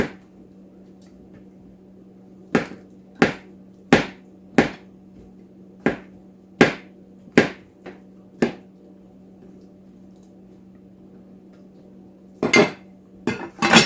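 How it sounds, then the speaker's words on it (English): Mushrooms being chopped on a cutting board, a series of sharp, distinct knife knocks at an uneven steady pace with a pause, then a quicker cluster of cuts, close and alone over quiet hum. "I got some mushrooms here. I'm just going to break those down."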